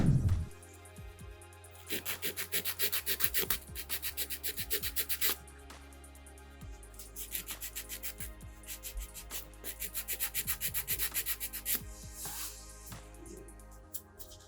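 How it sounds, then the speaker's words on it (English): The coarse side of a nail file rasps on a thick little toenail in close, rhythmic bursts of scratchy strokes. Pauses separate the bursts, and a steady low hum sits underneath. "Just had to shave it down with the rough side of the file."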